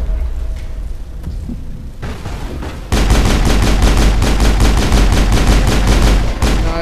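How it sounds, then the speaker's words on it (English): Sustained rapid automatic gunfire from the video game Mass Effect, loud and close, in fast regular bursts after a quieter stretch of scattered shots and game noise. "We shoot him like crazy."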